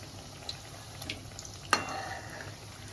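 Chicken kebabs frying three at a time in a pan make a soft, steady sizzle with a few light clicks and one sharp tap of utensil against pan partway through.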